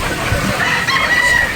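Gamefowl roosters on a game farm in Batangas, a crow rising over a windy outdoor background, loud and close with rough breathy noise underneath.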